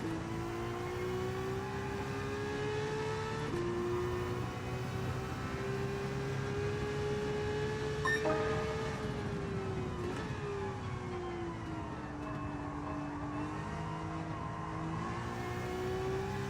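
Race car engine in Gran Turismo 7, a sustained high revving whine that rises and falls through gear changes across a long stretch, with some tire noise and no voices.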